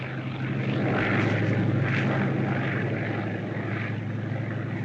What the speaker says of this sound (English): Scouting plane.